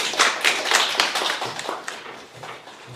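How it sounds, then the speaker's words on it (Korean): Audience applause at a Hanyang University student council election policy hearing: a dense burst of clapping from many hands that thins out and fades over a few seconds. "박수 부탁드립니다"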